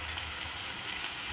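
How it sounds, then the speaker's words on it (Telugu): Broad beans (siri kura) sizzle and fry in a pan after being added to a cooked mixture, a steady close hiss with no talking. "ఇప్పుడు దీంట్లో ఆల్్రెడీ కడిగి పెట్టుకున్న సిరికూరని వేస్తున్నాము"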